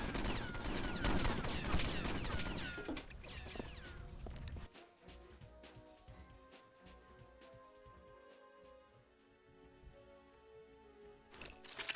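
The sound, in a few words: gunfire in video game James Bond 007 Nightfire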